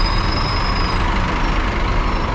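Buses idle and rumble at the Blok M bus terminal in Jakarta, a loud, steady engine drone with broad traffic noise and no clear breaks.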